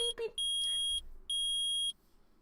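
Two sustained high electronic beeps from a metal detector in the Ace Attorney video game, each about half a second long with a short gap between them, clear and loud against a quiet background.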